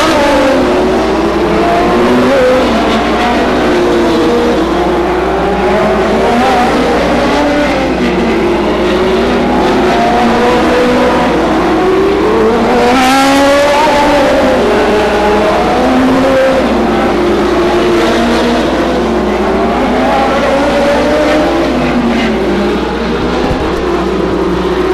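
Race cars lap Stockton 99 Speedway, loud engines revving and rising and falling in pitch as cars pass close by, one after another, with a sharp passing surge midway and no talk.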